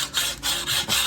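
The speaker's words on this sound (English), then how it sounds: "a sanding stick, and I'm just getting the rough edges done" A sanding stick rubbing the rough edges of a model starship deck in three quick, close strokes, each one a soft raspy scrape with short gaps between them.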